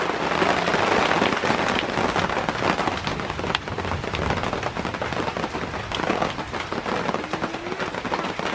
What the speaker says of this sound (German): Jetzt regnet es richtig doll.